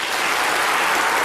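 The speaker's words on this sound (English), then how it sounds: "So by clapping, I want to know how confident you are." An audience at a Royal Institution Christmas Lecture claps together in a dense, steady burst of applause, close and loud throughout the short moment.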